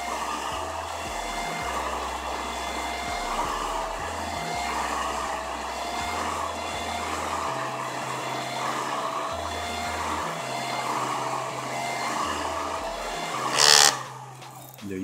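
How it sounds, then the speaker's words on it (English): A hot air blower heats heat shrink tubing over wires while building a hoverboard lamp shade, giving a steady loud whooshing roar that runs throughout before a brief louder burst near the end. "And that's how you shrink your heat shrink tubes."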